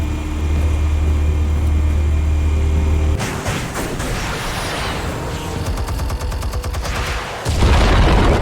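A video game explosion erupts abruptly over a low steady drone, followed by several seconds of dense crackling, rumbling debris and scattered sharp cracks before the deep drone returns, from Batman: The Telltale Series at the Skyline Club.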